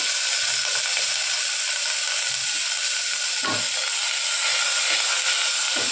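Oil sizzles and hisses steadily in a pressure cooker as potatoes and tomatoes go in, a constant bright frying hiss with a few soft spatters and clinks, no talking.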